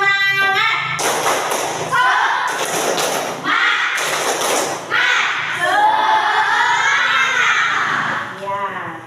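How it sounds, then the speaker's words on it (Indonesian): A classroom group claps out a rhythmic spirit clap in a few sharp, loud bursts separated by pauses, with voices chanting and talking between and over the claps. "Tepuk semangat."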